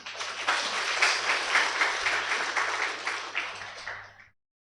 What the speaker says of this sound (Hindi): तो फिर से ताली बजाएंगे